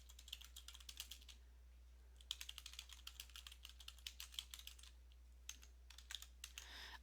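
Rapid clicking of keys on a computer keyboard, typed in quick bursts with brief pauses, close and fairly quiet.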